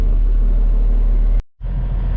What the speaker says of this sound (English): Hey, like that dump truck.